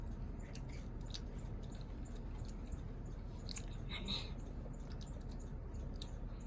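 Someone chews chocolate kunafa, giving soft wet squishy mouth sounds and small crunches close to the microphone, continuous with scattered sharper clicks over a steady low background.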